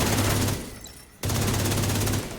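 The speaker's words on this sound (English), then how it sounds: "We can just keep firing." Sustained rapid automatic gunfire in a video game, loud and close. It pauses briefly, then starts again with the same dense, rattling rhythm.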